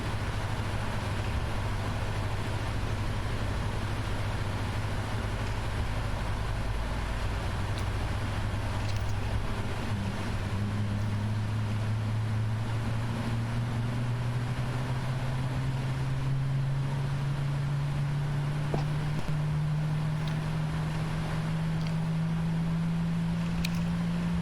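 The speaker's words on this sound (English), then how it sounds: "the start selector has gone back into normal, and you can see that engine is stabilized already" A Boeing 777-300ER engine spooling up during start in a PMDG flight simulator, a steady low turbine drone with a rising tone climbing gradually over about 25 seconds against constant background noise.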